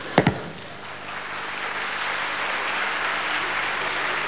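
Audience applause from a live crowd at a performance, a steady broad patter of clapping that swells slightly and holds, opened by a couple of sharp close claps.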